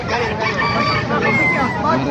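Roosters and hens crow and cluck in a busy yard at a market in Bocaue, several birds overlapping at close range with a constant background babble.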